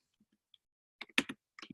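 A few scattered keystrokes on a computer keyboard while entering R code, light and close, arriving as a small cluster of quick clicks after a near-silent pause.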